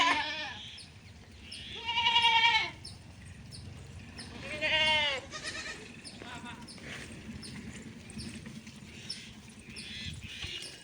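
A herd of goats bleats in a rural pasture, with two prominent wavering calls and fainter bleats farther off, under steady outdoor noise and occasional voices.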